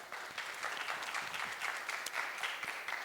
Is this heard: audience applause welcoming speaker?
yes